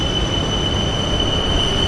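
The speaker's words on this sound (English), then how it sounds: "you can catch the train here to Ekam Mai Station" Train at Ekam Mai Station in Bangkok, a loud steady rail roar with a high squealing tone throughout, heard close by with no talk.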